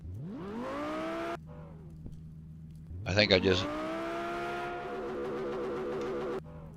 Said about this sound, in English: I'm in park, so I can rev it up here without taking off